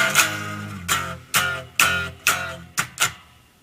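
Distorted electric guitar plays the main riff of a song, about seven sharp chugging attacks with a low fretted note and muted hits in an uneven rhythm, loud and close with no voices.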